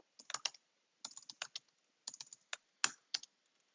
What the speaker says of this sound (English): Wow, I cannot type.